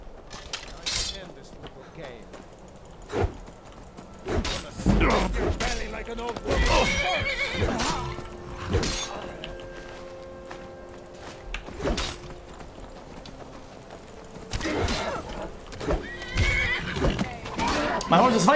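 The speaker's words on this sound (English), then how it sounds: "My horse is fighting for me." A horse in the video game Skyrim whinnies and neighs several times while fighting, over clinking and clattering sounds, with a person talking in between.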